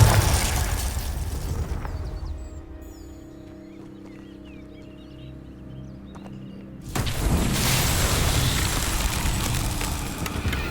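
Fire-blasting Confringo spell in Hogwarts Legacy: two loud, broadband bursts, one at the start and a second longer rumbling blast after a quieter middle stretch with faint chirps.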